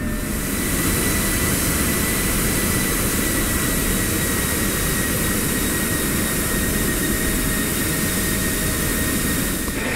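An F-16 jet in the DCS flight simulator taxis to the runway. Its engine gives a loud, steady roar with a constant high whine, unbroken and close throughout, with no talk.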